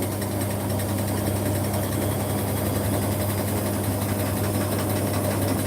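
A Beko Daily 60 washing machine, overloaded, spins fast with a steady, loud mechanical whir and a deep humming drone that holds evenly throughout without pause.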